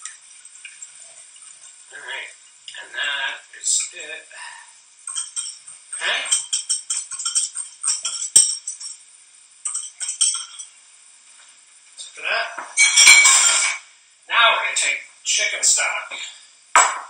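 Eggs whisked in a bowl in a home kitchen, a metal whisk clinking in fast bursts of rattly scraping, broken by pauses and running under a person talking throughout.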